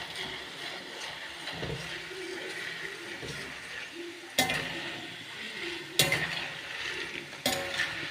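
Sliced jackfruit chips fry in hot oil with a steady sizzling hiss, broken by a few sharp metallic clinks of a utensil against the pan, close and moderately quiet.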